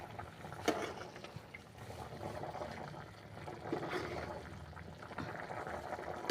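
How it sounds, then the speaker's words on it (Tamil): Water bubbles softly at a rolling boil, a faint, steady churning with occasional light clinks. "நல்லா கொதிக்குது பாருங்கள்."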